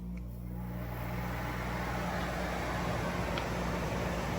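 A Whynter portable 14,000 BTU air conditioner runs indoors, giving off a steady, fairly loud broadband whoosh of fan and airflow with a low hum underneath, constant throughout.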